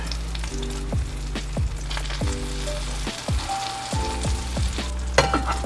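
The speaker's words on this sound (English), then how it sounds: "So we're going to fry them up on this for a little bit" Chicken burritos fry in a pan with a close, steady sizzle, crossed by occasional clicks and a few low tonal whines that slide downward.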